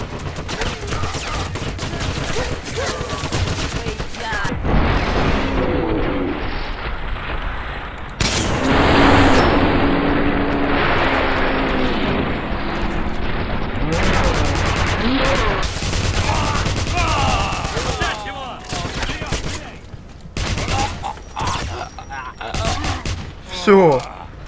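Gunfire from a heavy weapon in the Wolfenstein video game, loud bursts and sustained blasts filling the clip over constant game noise, with someone talking over it.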